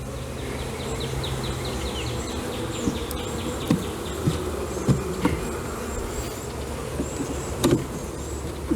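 Dense, continuous buzzing of honey bees around a hive, close and steady, with occasional faint knocks and bumps scattered through it and no talking.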